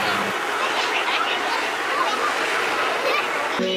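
Water spouting from a dragon statue onto a crowd in Vietnam, a steady broad splashing rush with crowd noise mixed in throughout.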